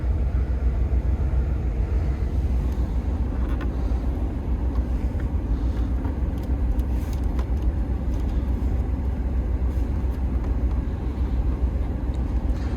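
A 1978 Dodge Transvan with a 360 engine idling, a steady low rumble with a continuous even drone and faint higher clicks, close and unbroken with no talk.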